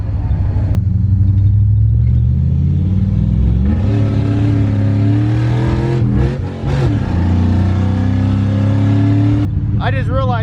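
Car engine droning loudly from inside the cabin while driving, its pitch rising and falling as it accelerates and eases off, with a voice talking over the steady rumble.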